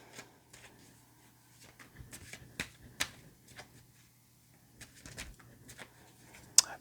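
Soft papery flicks and taps from handling a small mini tarot deck, scattered irregularly with a few sharper snaps, close and fairly quiet over a low steady hum.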